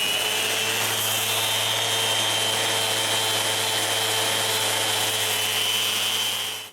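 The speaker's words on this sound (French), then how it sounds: "je peux sabler la colle et la poussière que j'ai utilisée pour boucher les trous de mes queues droites." A power sander works over glue and wood filler on plywood, a constant dense whirring grind with a steady high tone, close and loud, ending abruptly.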